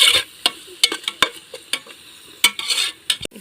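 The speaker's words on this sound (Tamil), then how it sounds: "போட்டு பச்சை வாடை போகிற வரைக்கும் நல்லா கிண்டிக்கிறணும்." Ginger garlic paste fries in a pan over a wood-fired stove while a spoon stirs it, giving sharp irregular scrapes and clacks over a soft sizzle, close up with no talking.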